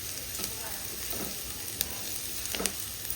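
Grated coconut and spices frying in a pan give off a steady, soft sizzle with faint stirring clicks.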